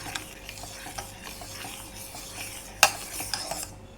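A spoon stirs custard milk and custard powder in a pan for fruit custard, making soft, regular scrapes and light taps against the metal, with one sharper clink near the end and a faint background hum.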